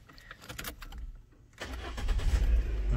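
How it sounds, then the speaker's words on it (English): A Peugeot 206 CC is started: faint clicks and quiet handling sounds come first, then the engine cranks and catches about halfway through, settling into a steady, rising idle close by. "I'm going to start the car in order to see."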